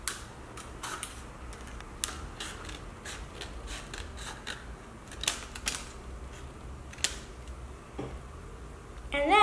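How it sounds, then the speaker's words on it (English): Scissors snip along the edge of paper while a Valentine's Day box is being made, giving a quick, uneven run of faint, close crisp cuts with short pauses between them. "just cut along the edge of your paper"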